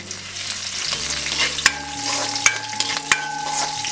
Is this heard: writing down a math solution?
no